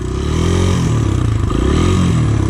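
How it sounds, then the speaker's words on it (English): A dirt bike engine runs close and loud with a dense, steady roar that rises and falls slightly as it revs, continuous for the whole stretch with no talking. "So you hold in the clutch, start the bike, and you can just go."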